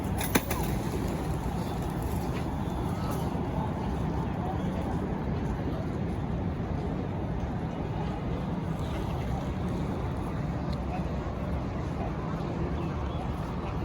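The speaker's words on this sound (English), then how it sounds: "there's so many pigeons" Flock of pigeons at a mosque in Madina: a dense, steady outdoor wash of fluttering and cooing mixed with distant crowd murmur and people talking, continuous throughout.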